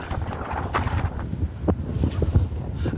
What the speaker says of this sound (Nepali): हावा भने एकदमै चलिरहेको छ।